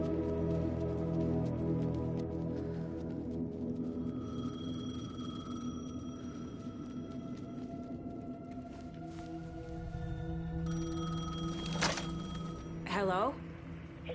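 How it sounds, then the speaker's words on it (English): A payphone rings with a steady, electronic tonal ring layered over sustained ambient tones, moderately loud and continuous throughout. "The payphone was ringing."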